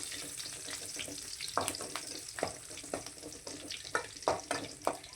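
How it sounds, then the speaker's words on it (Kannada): Garlic and curry leaves frying in hot oil in a pan while making mutton sukka, a constant crackling sizzle broken by sharp spatula scrapes and clinks at irregular moments, close by and with no talking. "ಅದಕ್ಕೆ ಬೆಳ್ಳುಳ್ಳಿನ ಹಾಕ್ಬಿಟ್ಟು ಒಂದು ಸ್ವಲ್ಪ ಹೊತ್ತು ನಾನು ಫ್ರೈ ಮಾಡ್ಕೊತಾ ಇದ್ದೀನಿ."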